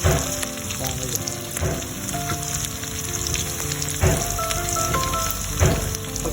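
Garlic frying in a pan for an eggplant and bitter melon dish, a steady close sizzle with scattered crackles and pops, musical tones sounding faintly underneath.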